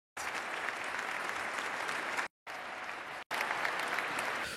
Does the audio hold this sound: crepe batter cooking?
no